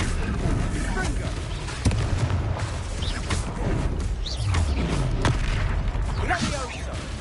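A fire spell cast in the Hogwarts Legacy video game goes off as booming, crashing blasts among dense layered combat effects, loud and continuous for several seconds without a spoken voice.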